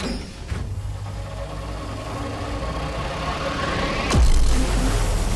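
An engine in the video game Sunless Skies turns over and builds, a low steady rumble that grows louder toward the end with a sharp sweeping burst and deep throb, over ambient background.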